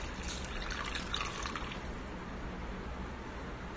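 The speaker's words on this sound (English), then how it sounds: "then you pour water in it" Water is poured steadily into a soap mold, making a soft, continuous trickle that stays faint and even for a few seconds. No one speaks.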